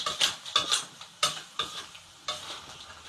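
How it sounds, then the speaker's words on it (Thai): Blue crab stir-fried with egg in a pan over low heat for a curry-powder crab dish: quick, sharp scraping strokes of a spatula, about seven in a row, over a soft sizzle. "เราใส่ไข่ลงไปให้มันเกาะหนึบนึบ ให้มันเกาะหนึบนึบผัดทุกตัวเลย"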